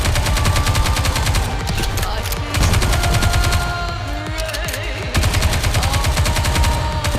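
Rapid automatic gunfire from a Goddess of Victory Nikke battle, loud and continuous bursts with brief lulls, heavy and close throughout with no talking.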